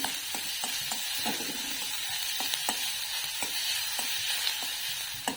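Finely chopped onion sautéing in a pan for masoor usal, a constant close sizzle broken by frequent light taps and scrapes of a stirring spoon, no speech.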